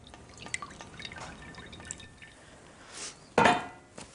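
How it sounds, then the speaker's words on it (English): Brown roasting juices from a chicken, mostly olive oil, are poured out in soft intermittent drips and small splashes, with a louder liquid splash near the end, close and quiet, without speech. "Pour these wonderful brown juices from the chicken"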